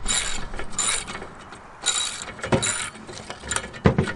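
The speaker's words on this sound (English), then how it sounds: "need to get you a socket with a 3/4 inch socket on it. Got to take this bolt out right here." A ratchet with a 3/4 inch socket clicks in uneven bursts of metallic ratcheting as it backs out a bolt, up close and fairly quiet, with short pauses between strokes.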